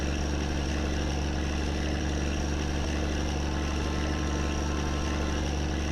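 A car engine in the My Summer Car driving game, revved at top RPM, drones steadily and loudly with a constant pitch for the whole stretch, and no voices are heard.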